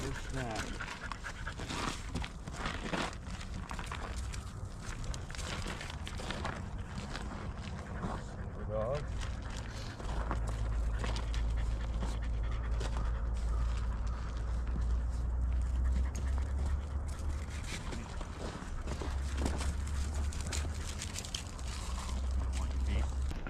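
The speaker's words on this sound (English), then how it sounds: "Yep, nice looking dog team" A sled dog team pants steadily and close by through the whole stretch, with low rumbling underneath and occasional whimpers.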